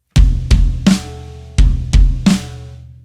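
Drum kit struck with both hands on the toms together with the bass drum: six heavy, booming hits in two groups of three, each ringing out loud and close.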